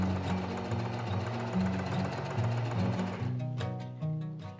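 A sewing machine stitching a straight line in fabric for a babydoll dress, a steady, close, rhythmic mechanical hum that shifts pitch slightly, then slows into separate needle thumps near the end.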